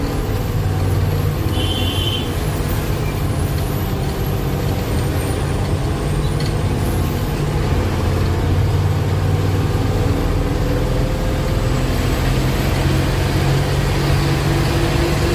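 A truck slowly descends a ghat road, with a loud, constant low engine rumble and drone heard from inside the cab, steady throughout with a faint high whine above it.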